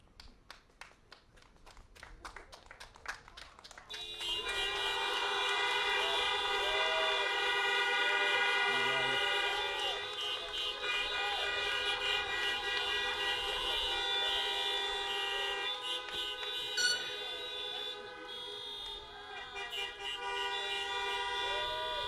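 Dozens of car horns honk together in a loud, sustained chorus of overlapping steady tones for a school's drive-in graduation ceremony, rising sharply after a few seconds and holding for about twenty seconds.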